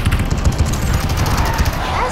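Rapid automatic gunfire from the online vehicle combat game Robocraft, a dense, continuous loud burst of shots filling the whole moment without pause.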